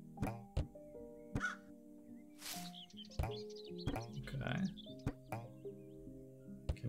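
A small bird in the video game Sizeable gives several sharp crow-like caws and short chirps over a melodic game soundtrack with sustained tones.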